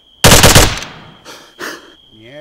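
A rapid burst of automatic gunfire in Arma 3, loud and close, followed by two shorter separate bursts and a voice speaking briefly at the end.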